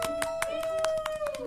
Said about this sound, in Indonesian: tepuk tangan yang di belakang, teman-teman